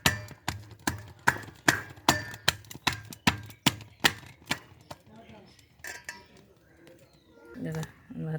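Fish being pounded and mashed with salt, a steady run of about a dozen sharp, close thuds at even intervals, then quieter scraping with a voice toward the end.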